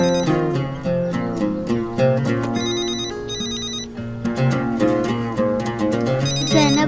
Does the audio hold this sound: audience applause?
no